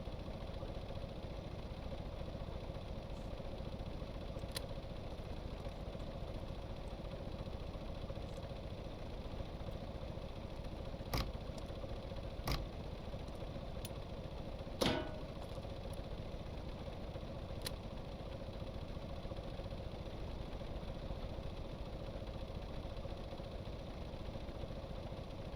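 A tractor engine runs in the video game Stormworks, giving a steady, even mechanical drone, with a few sharp clicks and a brief clunk midway.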